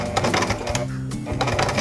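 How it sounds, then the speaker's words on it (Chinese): A sewing machine runs back and forth stitching over a seam line on a fabric snack-bag pouch, a close, loud, continuous rapid mechanical whirr with brief pauses as the stitch direction reverses. "我们等一下就是要这个车缝线的地方重复压线，这边来回针把它固定起来。"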